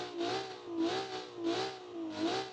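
A tuned car with a different exhaust and engine tune, making about 200 horsepower, revs in four repeated swells, each rising and falling, close and moderately loud with no talking.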